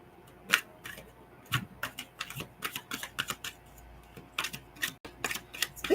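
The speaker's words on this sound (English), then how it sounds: "It's been a while since I've shuffled a laminated, should we call it laminated or glossy deck?" A glossy laminated card deck is shuffled, giving sharp, crisp clicking and slapping taps in irregular clusters, close and fairly quiet with short gaps between.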